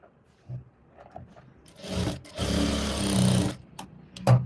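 A sewing machine stitches a simple blouse, running in a couple of short bursts and then one steady run of a second and a half, with a few soft handling bumps and clicks around it, close and moderately loud.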